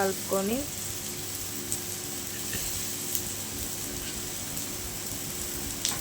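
Mustard seeds, cumin, green chilies, curry leaves, ginger-garlic paste and onion frying in oil in a kadai, a steady close sizzle with faint crackles running throughout, with a brief voice near the start.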